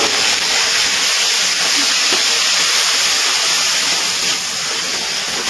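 Ginger and green chilli paste with a splash of water sizzles hard in hot oil, a loud, steady, close hiss that fills the whole stretch without pause.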